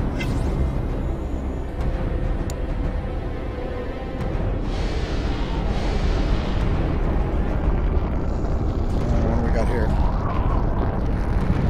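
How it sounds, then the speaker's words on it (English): Lava erupts in the VR game iOMoon as a dense, steady low rumble with a roaring, boomy texture that swells and churns continuously for the full stretch at close range, without clear separate bursts. "Oh, lava. Lava's not good."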